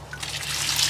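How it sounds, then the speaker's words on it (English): Half-strength fertilized water trickles from a container onto potting soil for transplanting pepper seedlings, a close, steady, splashy flow that grows slightly louder throughout, with no voices. "so I'm going to moisten it with this half strength fertilized water"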